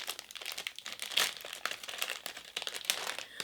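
Plastic packaging of mechanical pencil leads being opened up close, a steady run of bright crinkling and rustling with small snaps, no voice.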